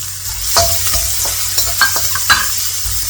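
Ginger, garlic and green chili sautéing in hot oil for kalamkari chicken, a loud, close sizzle with a run of rhythmic spatula scrapes and taps against the pan, no voices.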